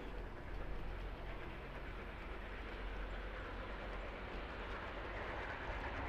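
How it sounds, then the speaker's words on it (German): A Roco H0-scale model BR 44 steam locomotive pulling a longer train of wagons, a faint, steady low rumble and rolling rattle of the small wheels on track, continuous and even. "Sie setzt den Zug in Bewegung."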